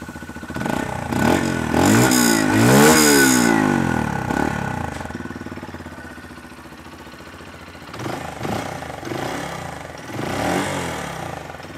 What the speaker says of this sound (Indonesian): Nah, suara knalpotnya nih ya.